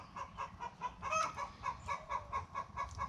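Chickens in a homestead chicken run cluck in a steady rapid rhythm, one call rising briefly louder, close and clear with no talk.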